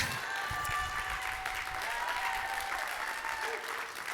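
A church congregation claps and shouts together in a dense, steady wash of applause and cheering that holds for the whole stretch, loud and close, with scattered voices calling out over it.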